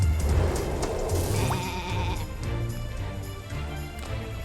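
A sheep in Skylanders SWAP Force bleats after being stunned, a clear wavering bleat rising over a busy game background of music and effects.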